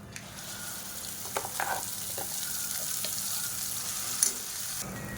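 Mint paste sizzling and frying in hot oil with mustard seeds and asafoetida in a pan, a steady bright crackle with a few sharper pops and spatters, close and continuous, no voices.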